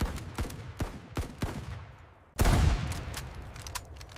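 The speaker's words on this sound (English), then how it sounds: "They fired blindly into the dark, smoke-filled rooms." Smoothbore musket fire crackles in a rapid ragged volley of sharp shots, followed by a heavy booming blast that rumbles and decays, all loud and close with no voices.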